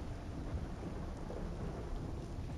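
A heavy thunderstorm rumbles in the video game Voices of the Void, with steady dense rain and low rolling thunder forming a constant even roar throughout, no voices.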